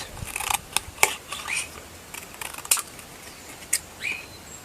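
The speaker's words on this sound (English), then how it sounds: "And now I just cut away the cardboard." Scissors snip away cardboard backing from flattened artist trading cards, giving a series of short, crisp cuts and crackles at close range in a quiet room, with no talking.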